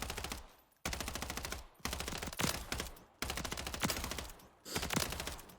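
An MTZ-556 rifle fires from the hip in Modern Warfare 3 Zombies, loud close-up automatic bursts with rapid, dense shots broken by brief pauses between strings.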